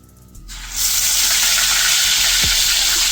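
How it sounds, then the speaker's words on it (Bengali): Rohu fish pieces hitting hot oil in a pan set off a loud, steady sizzle that swells within the first second and hisses on without a break, close and alone. "এবার আমি তেলটি গরম হতে দেব। এবার ভাজতে দেব।"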